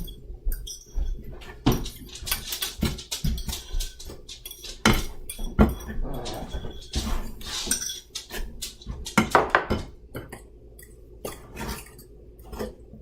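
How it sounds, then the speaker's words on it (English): Whisked eggs are mixed into sour cream in a bowl, with repeated clinks and scrapes of a utensil against the bowl in irregular bursts, close and fairly loud, interspersed with brief quieter gaps. "now add that to the sour cream and then mix it all up"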